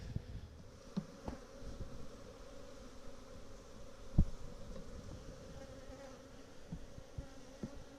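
A honeybee swarm hums in a faint, steady buzz, a low continuous drone with a few soft knocks and clicks scattered through it, quiet and somewhat distant.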